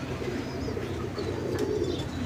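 Caged pigeons on a large pigeon farm coo and murmur together, a dense, steady wash of overlapping low calls with a few higher chirps, continuous and moderately loud throughout.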